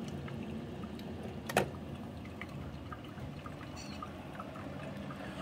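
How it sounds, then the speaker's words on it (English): Cleaning solution brewing through a Keurig K-Duo coffee maker gives a steady, soft liquid trickle and pour, with one brief louder splash or gurgle partway through and no talking. "It's simply being brewed right here and going right into the coffee maker."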